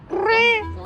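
A tiny stray tabby kitten hiding in a wall crack lets out a single loud, close, rising-then-falling meow lasting under a second, alone with no talking.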